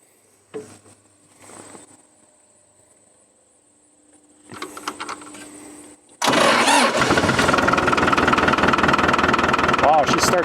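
The Isuzu diesel in a White Field Boss 2-65 tractor cranks briefly, then catches and settles into a loud, steady, close idle, with a few faint sounds and movements before it starts.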